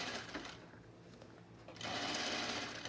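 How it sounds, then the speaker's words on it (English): A sewing machine stitches around a white flower on fabric during clothing mending, with a steady, close mechanical whir that pauses briefly and then runs louder and faster. "I'm trying to sew around this white flower."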